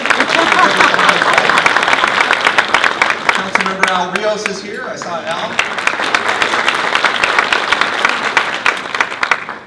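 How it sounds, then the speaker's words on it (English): Audience applause at a city State of the City event in South Gate, steady clapping from a crowd throughout, with someone speaking over it on a microphone. "We'll applaud anyway"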